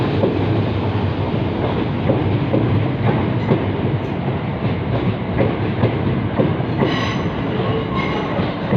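A passenger train working a service to Beckenham Junction passes at London Bridge, loud and close, with rhythmic clickety-clack of wheels over rail joints and a brief squeal near the end.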